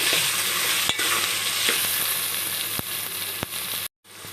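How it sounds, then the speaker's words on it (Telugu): Prawns are stirred into a curry in a pan: a steady, close frying hiss is broken by several sharp spoon scrapes against the pan, and there is a brief silent gap near the end. No voices are heard. "రొయ్యలు యాడ్ చేసుకొని బాగా మిక్స్ చేసుకోవాలి"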